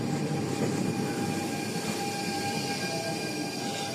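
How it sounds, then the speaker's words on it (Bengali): A modern public train in Denmark rumbles steadily nearby as it arrives at the station, with a constant mechanical roar and faint high whining tones, no voices present. "এই যে আমার ট্রেন চলে আসলো"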